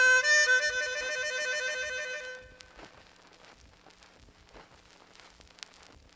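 Chromatic harmonica shaking on draw 4 and 5, a bright rapid warble between two reedy notes, loud and close for about two seconds, then giving way to faint background noise.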